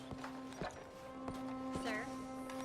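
Horse hooves clip-clop at a slow walk in the Red Dead Redemption 2 video game, evenly spaced close thuds, with a brief whinny, under a steady tonal hum and voices speaking.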